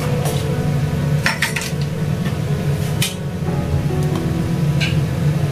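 A small spoon clinks against dishes in a home kitchen, giving a few sparse, light metallic taps over a steady background hum, with no talk.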